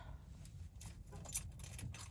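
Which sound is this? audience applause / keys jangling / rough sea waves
keys jangling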